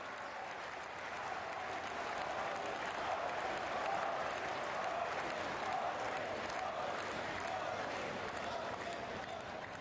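Steady, thunderous applause fills a hall at a museum inauguration ceremony in Gandhinagar as the audience welcomes PM Modi, the clapping dense and even throughout at a moderate distance.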